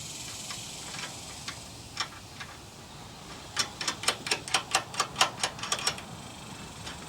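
Bolts on a Honda Civic coilover top mount are tightened with a ratchet, giving a quick run of crisp, close clicks after a few scattered ticks, with no one talking.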